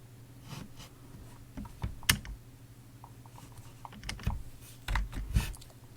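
Soft, irregular taps and clicks from a computer keyboard, a few light keystrokes spread over several seconds with one sharper click, close and quiet against a faint steady hum.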